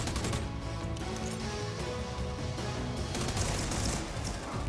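Dense, continuous gunfire in a shooter video game, overlapping automatic bursts and shots filling the whole stretch at a steady loud level with no gaps.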